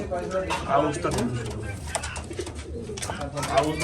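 Fancy pigeons coo in low, repeated throaty notes nearby, mixed with other background sounds and what seems to be faint voices.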